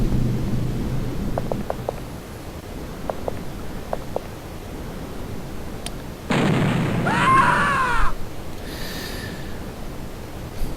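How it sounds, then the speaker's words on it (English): Grenade explosions in the X-COM: Terror from the Deep game sound as a loud, noisy burst lasting a couple of seconds, followed by a fainter second blast, after quiet stretches broken by small clicks and beeps. "Grenades."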